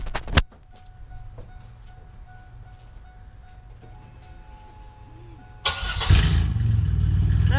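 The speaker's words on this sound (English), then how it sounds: "We're gonna start her up, see what she sounds like." A GMC Duramax diesel truck engine cranks and fires after a quiet stretch, then settles into a loud, steady rumbling idle close by.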